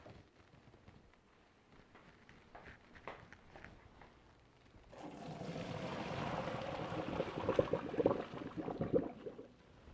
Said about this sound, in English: to the sink to drain the water.